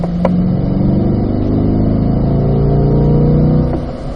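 A car accelerates hard out of a corner along a race circuit at a performance driving school, its engine note loud and steady with rising harmonics over about four seconds, a brief click near the start and no talking.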